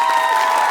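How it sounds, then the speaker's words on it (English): Audience applause and cheering for a high school quiz team at a televised school quiz competition, a brief, dense burst of clapping filling the moment without talk. "Big round of applause for Nova High."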